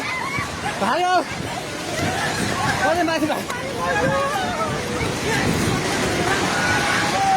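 A swollen Nepali river in flood rushes past nearby houses and shops with a loud, continuous broadband roar, while frantic shouting voices carry over it throughout.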